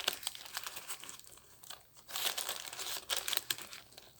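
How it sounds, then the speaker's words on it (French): Crinkly, rustling crumples come in uneven bursts, some louder and some softer, as a pine cone is wrapped up while making a Christmas wreath or table centerpiece. "on va venir emballer et la tête et la pomme de pin"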